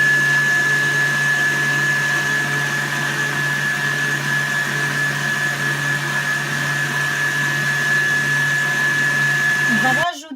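Electric mixer kneading brioche dough with a steady, loud motorized whine and constant hum that runs unbroken for about ten seconds, then abruptly cuts off at the end.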